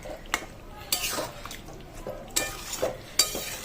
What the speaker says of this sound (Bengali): আর একবার ভালো করে এটাকে নেড়ে নিচ্ছি।